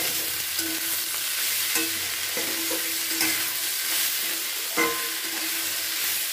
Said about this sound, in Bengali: দিয়ে এটাকে খুব ভালো করে কিন্তু বেশ কিছুক্ষণ নাড়াচাড়া করে ভালো করে ভাজা ভাজা করে নিতে হবে।